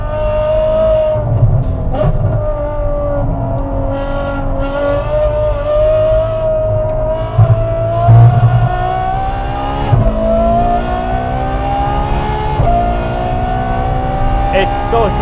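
Ferrari F12 V12 engine heard from inside the car on a wet Nürburgring, loud and steady with rising revs, upshifts and brief downshift blips, with voices talking over the drone.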